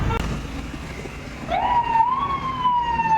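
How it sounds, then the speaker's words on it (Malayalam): A siren wails up and holds a steady tone over a low traffic rumble, fairly distant and continuous. "കുറേ ആംബുലൻസ് ആട്ടമാണ് ഇവിടെ"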